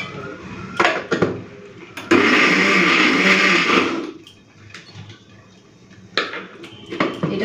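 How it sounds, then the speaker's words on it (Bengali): Electric mixer grinder blending spices into a paste for a fish curry, a loud steady whirring roar lasting about two seconds, bracketed by clinks and knocks of the jar and lid. "এখন এগুলো দিয়ে বেটে নিই।"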